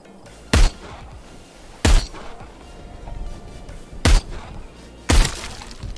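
Gunshots in a VR shooter video game, four loud sharp blasts spaced irregularly a second or more apart over a low background rumble, with no talking.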